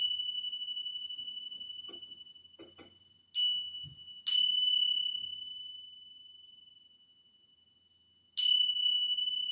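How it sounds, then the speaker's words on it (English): Bells chime during a yoga session, in three clear struck tones that ring out and slowly decay over near silence, with faint soft sounds in the gaps. "allow the sound of the bells to guide you back again to your physical body"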